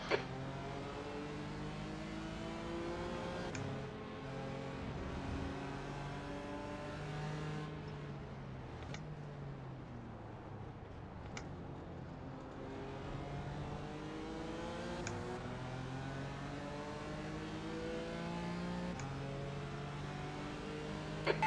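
Race car engines in a racing video game, with a near car's engine droning steadily and rising and falling in pitch through gear shifts, alongside other cars passing, with no voices.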